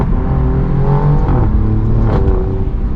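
A sports sedan engine revs hard through quick paddle-shifted downshifts, with a rising and falling drone and a few crackling exhaust pops near the end.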